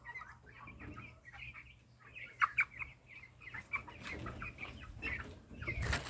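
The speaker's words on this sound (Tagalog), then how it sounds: "Black Rock, hybrid chicken from Rhode Island Red" Black Rock hybrid chickens, a Rhode Island Red and Plymouth Rock cross, cluck and murmur in a rapid, uneven series of soft calls at close range, with faint farmyard rustling underneath and a louder scuffle at the end.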